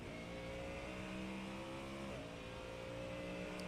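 Onboard a Mustang race car lapping the Chicago street course, the engine drones steadily and loud from inside the cockpit, its pitch dipping briefly as it shifts before climbing again.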